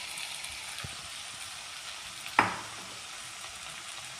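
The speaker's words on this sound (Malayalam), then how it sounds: "ഒന്ന് ഇളക്കി കൊടുക്കണം." Fish curry with tomato, crushed green chilli, ginger and garlic sizzles steadily in a pan, a continuous close frying hiss broken by one sharp scrape of a spoon stirring midway.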